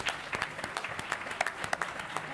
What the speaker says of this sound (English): Let's give our wonderful panelists a big round of applause.